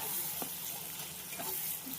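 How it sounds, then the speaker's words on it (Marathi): Masala spice paste frying in hot oil with curry leaves for a brinjal dish, giving a steady close-up sizzle with light stirring, no voices. "त्याच्यानंतर हा मसाला सोडायचा तेलामध्ये, छान फ्राय होऊ द्यायचं."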